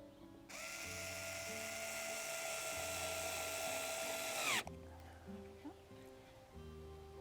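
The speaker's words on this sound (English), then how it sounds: "I'll hold them in place so that she can screw in the screws" A power drill whines steadily for about four seconds, driving screws into a wooden nest box, then winds down, with faint handling noises and a brief low murmur of voices afterward.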